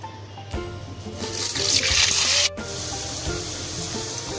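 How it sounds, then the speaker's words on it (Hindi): Potatoes go into hot oil left over from frying kebabs, and a loud hiss swells as they hit, then settles into a steady, close bubbling sizzle. "संभाल कर आलू को डाल लेंगे फ्राई होने के लिए।"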